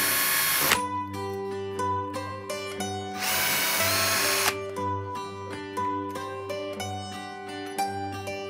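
Cordless power screwdriver removing two screws from an old terrace door handle: two loud high whirring bursts, then a series of short ratcheting pulses and clicks up close.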